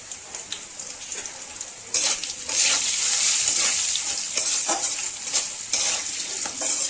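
Cut potatoes with salt and turmeric frying in oil, a steady close sizzle with scraping stirs, growing louder and denser after the first couple of seconds, no voices.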